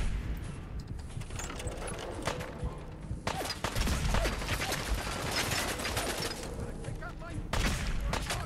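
Rapid bursts of gunfire from a Fallout 4 firefight, dense and continuous with sharp cracks and mechanical clatter throughout, loud and close.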